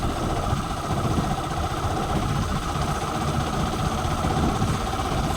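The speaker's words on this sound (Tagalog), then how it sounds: "May mga sasakyang pandagat naman po na lumalaot pa rin." A boat engine runs out on the sea with a steady, unbroken mid-low drone that holds at an even level throughout, with no voices.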